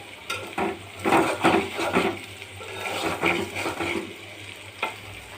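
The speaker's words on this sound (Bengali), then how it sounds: "এবার আমার ফুল ভাজি হয়ে গেছে এটা ছিল আজকে মাছের কাটা দিয়ে নাড়ি দিয়ে ফুল ভাজি" Flowers and fish bones frying in a pan, stirred with a utensil, giving irregular bursts of scraping and sizzling that swell and fade over a few seconds, close and moderately loud, without talking.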